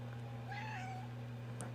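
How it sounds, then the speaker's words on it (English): A pet cat gives one drawn-out, moderately faint meow indoors over a constant low electrical hum, followed by a brief higher squeak near the end. "That's my cat."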